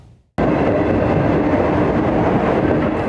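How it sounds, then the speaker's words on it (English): A train rolls along the railroad tracks at the West Springfield–Agawam town line, bursting in suddenly after a brief hush and then holding a loud, steady rumble of wheels on rail close by. "Trains traveling through the West Springfield Agawam town line has become a familiar sight to many"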